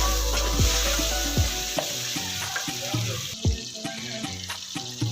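Whole garam masala and bay leaf frying in a pan, a loud close sizzle with repeated clanks and scrapes of a spoon against the metal, under a low hum that cuts off partway.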